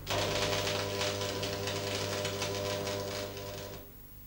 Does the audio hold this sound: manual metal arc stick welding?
yes